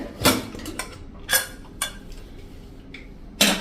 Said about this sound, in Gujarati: કુકરને 4 વિસલ થઈ ગઈ છે અને પ્રેશર પણ રિલીઝ થઈ ગયું છે। તો આપણે ખોલી લઈએ।